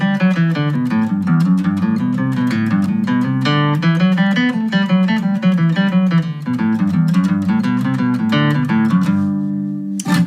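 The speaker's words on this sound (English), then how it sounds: "I'll play it on my guitar real quick. It's a really kind of like involved melody." A guitar plays the intricate fiddle tune Blackberry Blossom alone, with quick, evenly picked single-note runs that ring clearly and close throughout, ending on a sustained final note.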